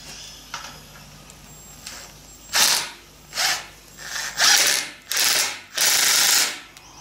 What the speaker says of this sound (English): that hex headed wood screw will go through, and the washer is just going to provide a little bit of protection for the paint when I drive these up hard